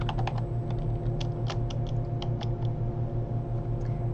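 Quick typing on a computer keyboard while a word is entered into contract software, light clicking keystrokes in irregular bursts over a steady low hum, with no voices.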